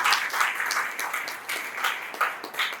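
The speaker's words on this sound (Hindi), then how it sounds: "एक बार तालियां वाला जोर से बजाएं।" Audience in a hall clapping loudly for a stage performer, dense rhythmic applause with brief surges, close and continuous.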